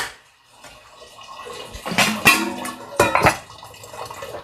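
Water poured from a gallon jug into a container indoors: uneven gurgling splashes with a few louder glugs, mixed with light clinks.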